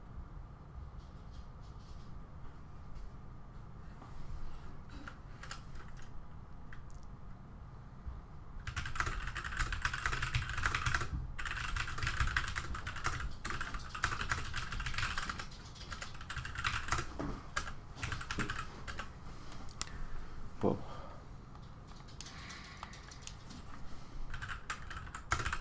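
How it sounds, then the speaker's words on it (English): Continuous typing on a mechanical keyboard, with a dense stream of clacky keystrokes under a low rumbling hum. The key noise gets louder and busier about a third of the way in. "mechanical keyboards may be noisy, but they are so satisfying"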